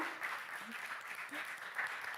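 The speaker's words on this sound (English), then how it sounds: "We can give him an applause" Soft audience applause at a talk on smell and taste, a fairly faint, even patter of clapping with a hint of voices mixed in.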